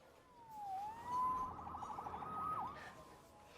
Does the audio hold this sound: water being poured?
no